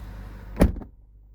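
A car door shuts with a single close, solid thud while the engine of an Audi V8 60 TDI diesel idles quietly, followed by near silence.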